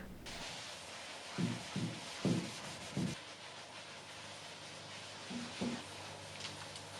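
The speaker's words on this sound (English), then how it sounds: "Let's take a rag and just rub it on, and then we'll rub it off." A rag rubs gel stain onto an antique wooden serpentine dresser, making soft repeated scrubbing strokes in short bursts over a constant background hiss.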